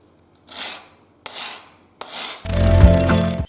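Hand shears are sharpened along the cutting edge with a file or stone in three short, separate rasping strokes, followed by a louder, denser grinding rub that continues to the end.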